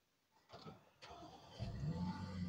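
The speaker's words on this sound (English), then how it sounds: "Let me start this car." A 2016 Audi started with its push button: a faint click and whir of the starter, then the engine catches and settles into a low idle, close and quiet.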